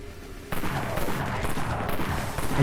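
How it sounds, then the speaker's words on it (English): Dawn Enforcer firing in the zombie shooter Dead Frontier: after a quiet lead-in, heavy cannon-like booming shots erupt and keep rolling in quick succession, loud and dense, blending into one another with no talking. "Because this gun is so loud."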